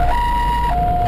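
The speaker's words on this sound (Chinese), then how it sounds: "救护车赶到现场" An ambulance siren wails loud and close at a road accident scene, its steady electronic tone jumping between two pitches in a single sustained blast.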